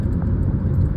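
A warmed-up three-cylinder engine in a Tata Altroz idles steadily, with a loud, close, low rumble running the whole time and no talk.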